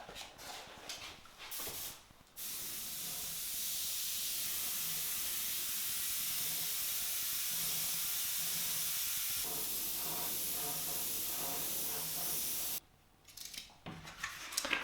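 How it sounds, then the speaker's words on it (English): Pearl black paint sprays from a small airbrush in a long, steady, loud hiss lasting about ten seconds, framed by brief clicks and handling noises before and after. "And now I start to spray on the pearl black."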